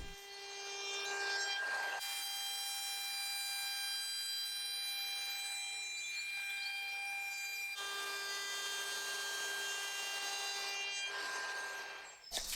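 Steady, continuous rasping and filing on the square edges of an old wooden chair seat from a roughly 150-year-old chair, rounding them over by hand. A close scraping texture runs almost unbroken throughout, with a brief pause near the middle.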